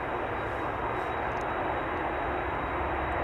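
A KLM Boeing 747 at Amsterdam Schiphol Airport holds a steady, loud engine roar, a broad continuous rumble that stays even throughout with no speech over it.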